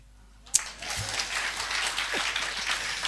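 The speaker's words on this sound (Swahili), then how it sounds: "Na mbona sisikii makofi?" Church congregation breaking into applause during an apostle's sermon, beginning abruptly after a sharp first clap and continuing as steady, full, sustained clapping from many hands in a large room.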